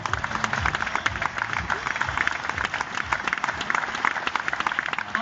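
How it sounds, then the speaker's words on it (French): An audience applauds the Cofidis cycling team riders at their 2017 presentation in Tournai, Belgium, with dense, steady clapping throughout and an announcer's voice talking over it. "vous pouvez les applaudir très très fort"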